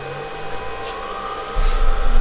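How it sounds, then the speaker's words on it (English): A Vevor CNC router spindle driven by a VFD spins up with a steady whine and a low hum, and a deeper rumble swells in near the end. "There goes the spindle."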